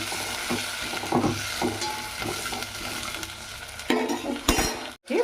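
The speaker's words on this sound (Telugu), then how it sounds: "ఒకసారి గరిటెతో తిప్పుకున్నాం." Tomato and onion pieces frying in a pan and stirred with a ladle, giving a steady sizzle with scraping strokes and a few metal clinks near the end, no voices.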